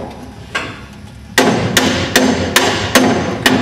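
A hammer taps a part onto a splined shaft: one soft knock, then a steady run of about six sharp, evenly spaced metallic blows, close and loud.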